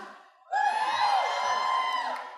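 Comic con panel crowd bursting into loud whoops and cheers after a brief quiet moment, a sustained roar of many voices with high yells on top.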